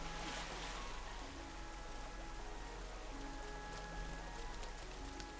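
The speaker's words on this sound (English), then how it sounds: "See the rain coming down in the sky, hit the rain on the pavement." Steady rain pours onto pavement in the video game Rain, a dense, even wash of patter with scattered drips, continuous and fairly close throughout, no voices.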